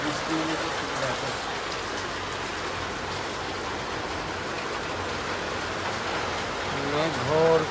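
Heavy rain pours in a village under dark clouds, a dense, continuous wash of hiss and splatter that stays loud throughout, with a brief voice near the end.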